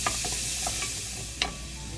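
Sautéing in a pan, with a quiet continuous sizzle broken by a few light scrapes and taps of a stirring utensil.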